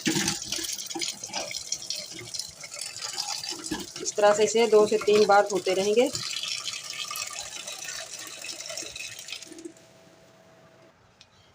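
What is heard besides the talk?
running tap water washing container in bowl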